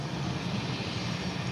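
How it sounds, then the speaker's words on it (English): A Bombardier Global 5000 private jet taxis at San Juan's SJU airport, its engines giving a steady, even roar that stays close and unbroken throughout. "we have a private jet taxiing right now"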